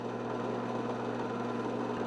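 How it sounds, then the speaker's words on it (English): A drill press bores out the wood webs between mortise holes in a frame-and-panel door part, giving a steady, close motor hum with a continuous cutting whir and no pauses. "drill the webs out in between my holes"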